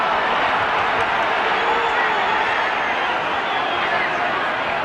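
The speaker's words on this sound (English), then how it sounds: "And some passion coming into the game, the crowd feeling it and responding." Football crowd at the 1972 Everton v Walsall FA Cup fourth round match, a steady broad roar of many distant voices filling the stadium, continuous and even with no distinct cheers or claps.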